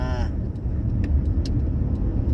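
A car drives along the Yellowhead highway with a steady, loud road roar and engine rumble, heard from inside the cabin with a few faint ticks over it.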